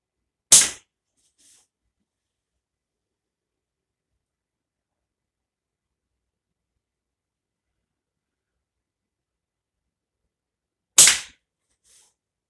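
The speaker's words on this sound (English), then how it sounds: "I will now shoot this beanflip with the really," A beanflip slingshot with very light bands fires twice, about ten seconds apart. Each shot is a sharp, loud snap followed by a faint tap a moment later, with near silence between shots.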